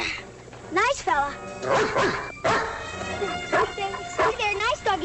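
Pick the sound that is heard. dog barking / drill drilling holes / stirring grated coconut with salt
dog barking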